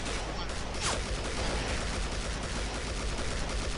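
Dense, continuous gunfire from the video game Killing Floor, with overlapping shots in a sustained barrage and a few faint voices mixed in.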